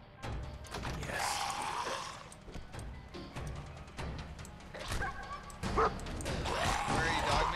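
The companion dog in the Fallout 4 video game gives repeated barks and yips mixed with game sounds, while a player talks over them.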